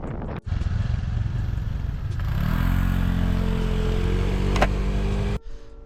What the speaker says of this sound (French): on enfourche nos scooters pour aller visiter Pulau Samosir